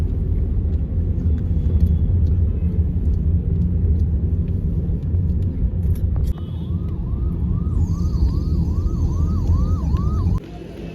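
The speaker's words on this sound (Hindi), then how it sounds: "और फिर हमारी गाड़ी शुरू हुई, चल पड़ी दिल्ली से" A car on a road trip from Delhi toward Dehradun, its engine rumble and road noise steady throughout, with a siren wailing in the distance toward the end.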